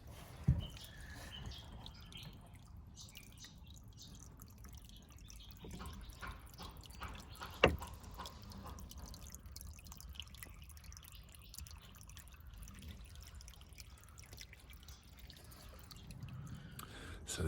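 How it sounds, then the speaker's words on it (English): Water runs and drips beneath a house floor with lifted panels, a faint steady trickle broken by scattered drips and one sharp knock partway through. "You can see the water running, but it seems to be running sort of downstream."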